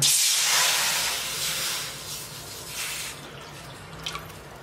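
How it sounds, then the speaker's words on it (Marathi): Water heating in a kadhai over the stove gives a soft, broad hiss of steam that fades gradually, with a few faint bubbling ticks near the end. "तेच कढई मध्ये तांब्यावर गरम पाणी करू"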